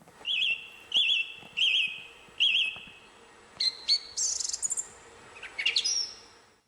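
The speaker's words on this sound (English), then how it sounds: "if we take the song thrush, whose name Philomelos means lover of melody, you get this little 6-second call" A song thrush calls alone at a distance, with four repeated whistled phrases followed by a faster series of sharp chirps and a final bright rising note, against a quiet outdoor background.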